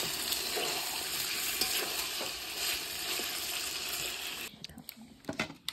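Food frying in plenty of oil in a wok gives a steady, close crackling sizzle that holds for several seconds, then cuts off and leaves a few scattered clatters and knocks.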